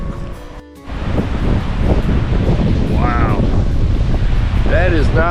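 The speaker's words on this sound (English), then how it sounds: "High winds." High winds buffeting the microphone beside Lake Tawakoni, a loud continuous roar with waves washing on the shore, briefly dipping before surging back, with people talking in the wind.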